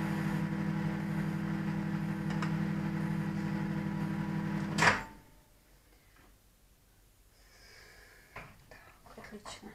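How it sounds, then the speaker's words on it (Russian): A microwave oven heating a chocolate mixture hums steadily for several seconds, then shuts off with a click, leaving quiet room noise and faint clattering. "отправляем в микроволновку топиться"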